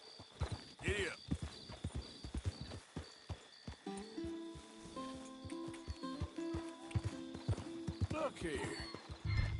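Hooves clip-clop steadily from a horse ridden in Red Dead Redemption 2, with a snort or whinny early on, game music tones entering midway, and a voice speaking briefly over the hoofbeats.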